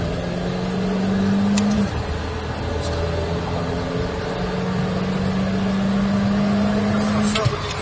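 A high-revving Ferrari F8 twin-turbo engine holds a steady pitch under the noise of wind and road on a track, dipping briefly before climbing again, with a voice talking over it.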